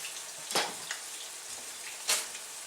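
Quartered mushrooms and onion frying together in hot oil give a steady soft sizzle, broken by a couple of sharp stirring clatters.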